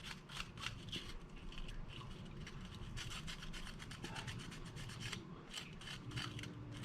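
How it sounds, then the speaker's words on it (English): Sanding a 3D-printed part to knock off leftover support nubs: quick, repeated rasping back-and-forth strokes in a steady rhythm, close but fairly quiet, with no one talking. "So we're going to do a little bit of sanding to it here."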